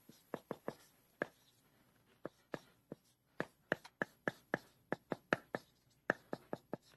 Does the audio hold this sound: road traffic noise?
no